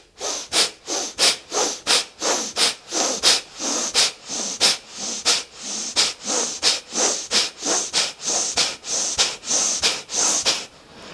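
Bhastrika pranayama breathing done only through the nose, driven by the abdomen and diaphragm: about two dozen forceful, close, hissing breaths in a fast, steady rhythm, with no talking.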